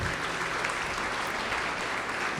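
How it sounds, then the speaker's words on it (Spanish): Steady, dense applause from a church congregation during a Spanish-language sermon, an even wash of clapping that holds at constant loudness throughout, with no voices standing out. "Dale un aplauso al Señor."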